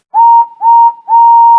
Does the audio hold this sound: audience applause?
no